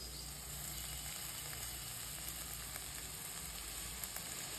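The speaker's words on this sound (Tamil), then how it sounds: "இதை சேர்த்து நல்லா நம்ம மசாலா எல்லாமே கலக்கிற மாதிரி வதக்கி விட்டுக்கலாம்" Finely chopped black nightshade greens fry with masala in a pan, making a soft, even sizzle that carries on throughout with faint stirring taps and no voices.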